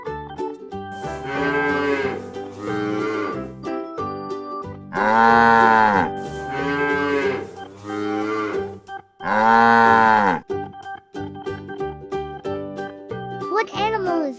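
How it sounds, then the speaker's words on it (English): Cow mooing in two loud, drawn-out calls separated by a few seconds, over light background music, with a voice speaking briefly between them. "a cow says moo"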